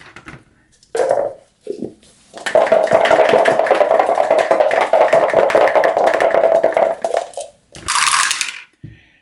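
Three dice rattling down through a dice tower during a Fate of the Elder Gods board game, a brief clatter followed by a sustained tumbling rattle and a final burst, close and loud with no talking.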